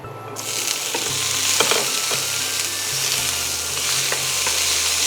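Tomatoes and chili pepper sizzle and fry steadily in a pan, with a continuous bright crackle and occasional stirring scrapes, close and fairly loud, no talking.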